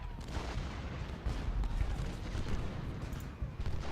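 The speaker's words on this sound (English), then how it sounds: "Let's get all these guys to shoot at Mahone" Distant battle din from the Ultimate General: Gettysburg strategy game: muffled artillery booms and scattered musket volleys rolling together in a steady, fairly quiet rumble.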